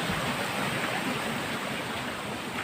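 Puray Falls in Montalban, Rizal pours with a strong flow, giving a loud, steady, close rush of falling water with no voices.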